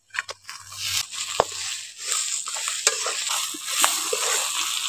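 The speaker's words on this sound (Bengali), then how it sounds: "এই কটা উপকরণ দিয়ে একটু ভালো করে নাড়িয়ে একটু কষিয়ে নিচ্ছি" Spices and a fried rohu fish head are stirred and sautéed in a pan: scraping spoon strokes and knocks over a steady sizzle, close up with no talking.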